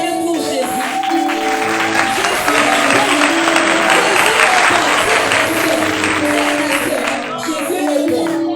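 Congregation at a night prayer service clapping and cheering for Jesus, a loud, sustained wash of applause with crowd voices and music tones underneath, steady throughout.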